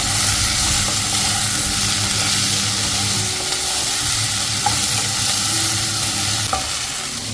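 A spoon scrapes and stirs through thick bubbling rice porridge in a pot, with a steady hiss and sizzle underneath and occasional clinks.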